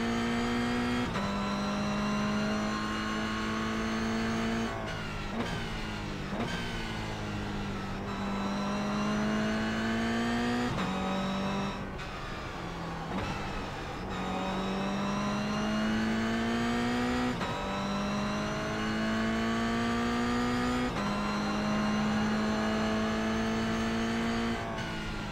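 Race car engine in the iRacing GR Cup at Okayama, droning steadily and close at high revs across the whole stretch, with repeated pitch climbs and brief dips as gears shift, briefly easing and swelling again.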